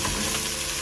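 Vegetables hiss and crackle in a hot pan with salt, pepper, cumin powder and chilli flakes for a wheat rava khichdi, a brief dense sizzle with stirring.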